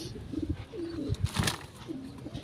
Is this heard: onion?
no